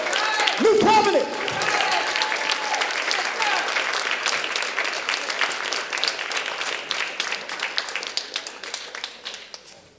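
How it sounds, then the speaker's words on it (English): An audience at a community gathering applauds a speaker with loud, sustained clapping, opening with a brief voice or shout and thinning gradually toward the end. "Stand up and give this brother a round of applause."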